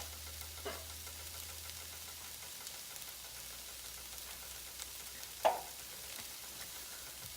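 Taco casserole meat frying in a pan, a quiet, steady sizzle with a few soft scrapes of stirring and one sharper clink near the end, close and faint, with no talking.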